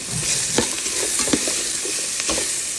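Chopped coconut pieces and curry leaves sauté in a pan for chicken curry, a loud close sizzle with a few distinct stirring scrapes spaced through the short stretch, no talking.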